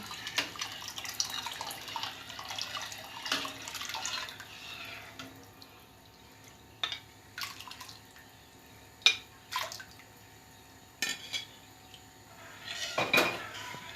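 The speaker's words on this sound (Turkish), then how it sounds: "Şimdi tencereye ekleyelim bunu." Clinking pot and utensil sounds with splashes and drips as ingredients for beef trotter soup go into a cooking pot, scattered knocks and scrapes, close and moderately quiet.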